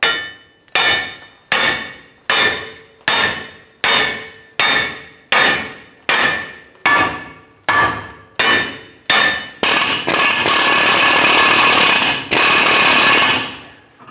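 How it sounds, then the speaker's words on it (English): A sledgehammer pounds the rusted lower control arm of a 2002-2008 Dodge Ram 1500, about a dozen loud, evenly spaced metallic blows ringing close by, then a brief burst of continuous clatter and rumble near the end. "I'm going to go ahead and use my sledge. I'm going to try and bonk the end of this here to break up some of this rust."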